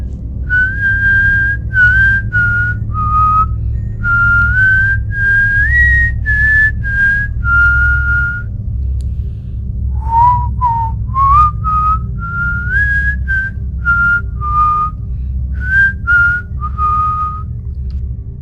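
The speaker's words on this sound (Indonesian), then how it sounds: "Suara siulan berirama Nina Bobo." A whistled lullaby melody, slow and tuneful, with sustained notes in two phrases separated by a short pause, clear and close over a low steady hum.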